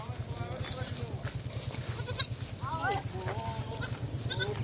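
Goat bleating on a goat farm, heard in a few short wavering calls over steady low background noise, with people talking nearby throughout.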